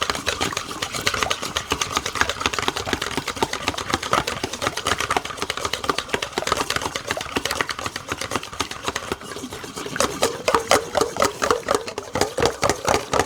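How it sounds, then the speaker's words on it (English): A mixer fitted with a dough hook works muffin batter, giving a steady rapid mechanical whir with a dense, rhythmic clattering texture that runs continuously and grows choppier toward the end, with no talking. "Using the dough hook, mix everything together for about a minute."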